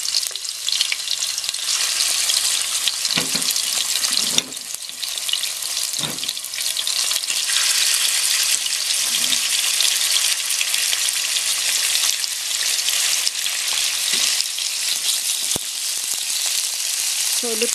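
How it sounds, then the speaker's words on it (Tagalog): Thin pork slices frying in hot cooking oil for yakisoba noodles, giving a loud, dense, continuous sizzle and crackle close by, with occasional knocks of a utensil in the pan. "So, lutuin natin itong pork. I-fry natin."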